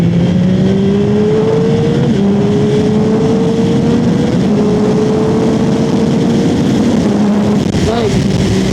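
Yamaha R9 motorcycle accelerating onto a freeway, its engine note climbing steadily through the gears with wind roar, loud and continuous throughout.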